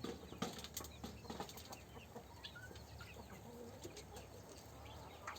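Native country chickens cluck and squawk in a restless, pecking flock, with a burst of flapping wings near the start and scattered calls continuing at moderate loudness throughout.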